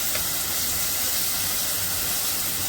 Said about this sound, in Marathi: तिथे तेल सुटेपर्यंत जरा परतून घेणार आहे